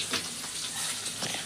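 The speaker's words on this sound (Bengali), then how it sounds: "এখানে মাছ ভাজা হচ্ছে" Fish frying in hot oil during home cooking for a Saraswati Puja family meal, a soft, continuous crackling sizzle with faint bubbling bursts, heard close and alone.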